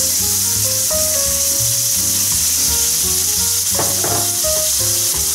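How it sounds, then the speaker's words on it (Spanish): Chopped onion fries in hot olive oil with a loud, continuous sizzle and crackle close up, along with scraping stirs and some background music. "Esperamos que el aceite caliente, ya calentó, entonces vamos a agregar nuestra cebolla."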